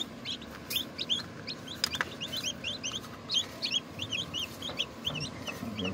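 Chickens with newly hatched chicks cluck and cheep continuously, with many quick high peeps repeating close by over a steady low farmyard murmur.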